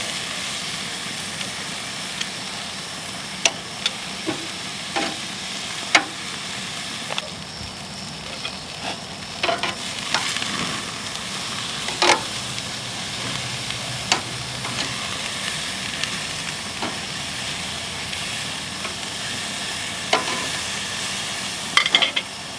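Picanha steaks sizzle on a grill with a constant hiss broken by frequent sharp pops and crackles of fat, close and fairly loud, without voices.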